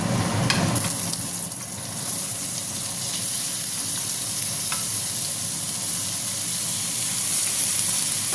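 Sliced ridge gourd pieces tossed into a hot pan with turmeric, giving a steady, close hiss of frying and sizzling that carries on evenly with faint stirring scrapes.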